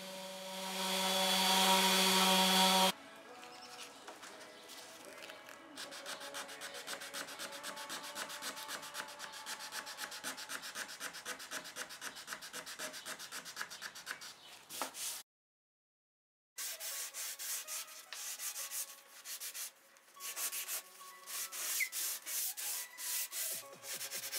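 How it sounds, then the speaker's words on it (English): Sandpaper rubs by hand across painted wood furniture in steady, rhythmic back-and-forth strokes, close and fairly loud, with a brief pause partway through before the scratchy strokes resume. "then I went in with hand sanding"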